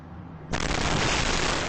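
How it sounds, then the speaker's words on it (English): A forceful explosion on Franklin Street in Worcester beside a parked fire truck, caught by a surveillance camera: a quiet street hum broken by one sudden loud blast that stays as a sustained roaring rumble, with no voices. "as a Worcester fire truck was parked on Franklin Street, the forceful explosion occurred"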